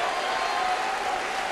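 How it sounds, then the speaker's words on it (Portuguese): A church congregation claps together in steady, dense applause, filling the room evenly for a brief stretch with no voices rising above it. "Então vamos aplaudi-la."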